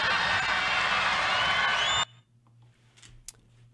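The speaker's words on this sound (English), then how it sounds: "Cheers and applause." Loud crowd cheering and applause roar at a political rally, a dense sustained wall of sound for about two seconds, then cutting off abruptly to near silence with faint scattered noises.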